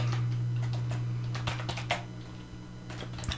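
Typing on a computer keyboard, a loose run of soft clicks and key taps over a steady low electrical hum, fairly quiet and close.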